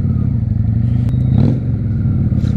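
A Honda Shadow motorcycle engine idles loud and steady up close, with a gentle blip of the throttle midway and a slight, even rumble throughout.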